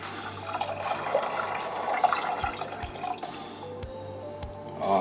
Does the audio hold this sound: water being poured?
yes